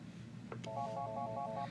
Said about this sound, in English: Now I can scroll through. I've chosen number 11 and you can play the ring types.